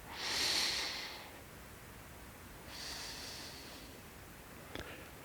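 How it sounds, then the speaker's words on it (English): Two slow, soft breaths drawn in and let out during a calm stretching session, each a long airy swell with a pause between, close and quiet, followed by a brief faint tap. "Listen to the sound of your breath"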